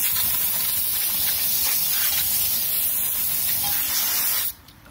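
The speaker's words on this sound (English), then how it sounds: "So I'll go ahead and rinse it off" Water spray rinsing a Volkswagen wheel after cleaner, a steady loud hiss running continuously before cutting off abruptly near the end.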